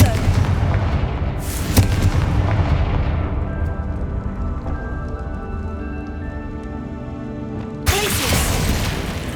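Confringo spell explosions in Hogwarts Legacy: two sharp, loud blasts several seconds apart, each with a crackling burst, over a sustained rumbling background and steady tonal game music.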